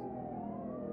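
Police siren wailing through a car chase in Mafia 3, a steady rising tone held loud over rumbling engine and street noise for the whole moment.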